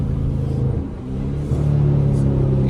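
A car engine drones low and loud at close range, its pitch dipping and rising again through a couple of quick downshifts while driving through a city at night.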